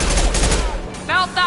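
Rapid gunfire in Mass Effect 2 on insanity difficulty, a loud close burst of shots that cuts off partway through and is followed by brief tonal game sounds.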